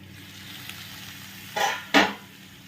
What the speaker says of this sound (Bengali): আমি একটু নাড়বো, নেড়ে আবারও কী করবো, চাপা দিয়ে দেবো